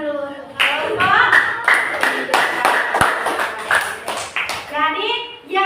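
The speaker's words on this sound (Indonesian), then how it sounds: "Beri tepuk tangan dulu untuk kelompok." A classroom group claps for a student group after their presentation, giving several rhythmic rounds of hand claps close by, with a teacher's voice and children's chatter in between.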